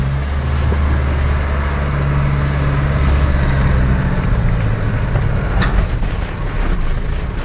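An Isuzu D-Max 150 PS pickup crawls up a steep Sky Bridge ramp, its engine a steady low drone close by, rising slightly as it climbs, with some rattling and a few knocks near the end.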